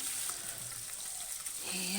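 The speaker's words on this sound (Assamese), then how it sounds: "মাছখিনি হাফ ফ্ৰাই কৰি ল'ম, জোল বনাম যিহেতু।" Singhi catfish pieces half-frying in oil in a pan give a soft, even sizzle, low and close, lasting about two seconds without any voice.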